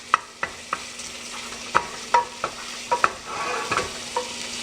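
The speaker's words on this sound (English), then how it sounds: "we want to break it up here and just stir it around" Italian sausage frying in a pan while a utensil breaks it up and stirs it: a steady sizzle close up, punctuated by regular scraping clacks of the spoon against the pan, with no talking.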